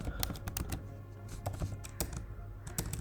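Quick bursts of typing on a computer keyboard as a command is entered, crisp key clicks in an uneven rhythm, close and fairly quiet.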